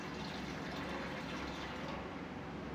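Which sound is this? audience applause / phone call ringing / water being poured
water being poured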